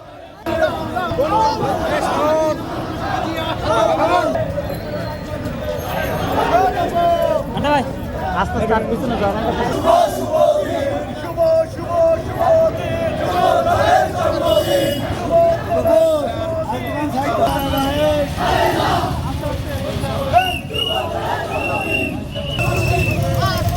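Dense crowd noise at a youth political rally on a city street: steady babble of many voices with shouting that could be slogans, passing road traffic underneath, loud and continuous throughout.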